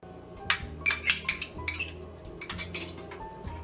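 A metal spoon clinks and scrapes against a pot while chana masala is stirred with crushed green chili, giving a quick series of close, bright knocks.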